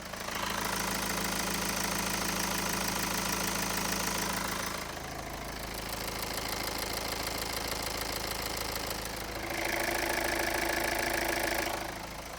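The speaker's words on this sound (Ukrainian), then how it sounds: "Також дам послухати вам, як працює мотор." A 2013 Kia Sorento engine idles steadily with a low mechanical hum and faint knocking, holding a constant rhythm throughout.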